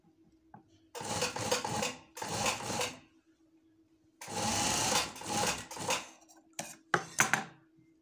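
Sewing machine stitching a shirt in a home setting, running in several distinct bursts of steady whirring of one to two seconds each with short pauses between, close and clear with no talk.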